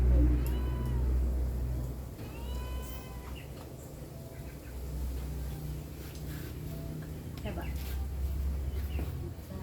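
A cat meows a couple of times in an outdoor rural setting, the calls fairly close but mixed with birds, low rumbling background noise and people talking nearby.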